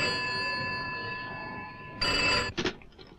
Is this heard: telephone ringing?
yes